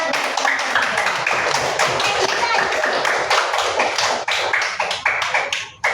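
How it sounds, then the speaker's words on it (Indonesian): A class of schoolchildren clapping steadily for several seconds, loud and close, with scattered voices mixed in before the applause tapers off. "Tepuk tangan untuk kelompok 3."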